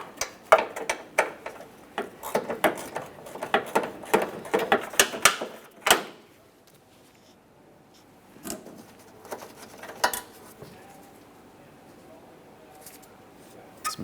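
Several 10mm-headed bolts being loosened and removed from the headlamp bracket of a 2007-2013 Acura MDX, heard as a rapid ratcheting tick that runs for about six seconds, then brief clicks after a pause.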